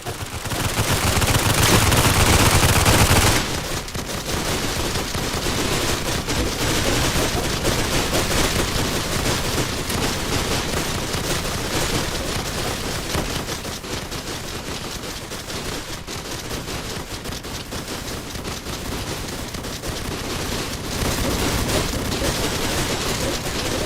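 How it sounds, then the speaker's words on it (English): Continuous rapid gunfire and blasts from the Tower Defense Simulator video game in frost mode, a dense, loud barrage of overlapping shots throughout, starting with a heavier burst. "It's a bit hard to think when you're shooting something you can barely see."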